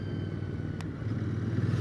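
Royal Enfield Interceptor 650 motorcycle engine pulling steadily under acceleration, a continuous low drone with a rising rumble toward the end, moderately loud and close, no voices.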